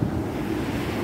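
Ocean surf and wind at Playa Jardin beach in Puerto make a continuous close rush. Waves wash and wind buffets the microphone throughout, with no voices.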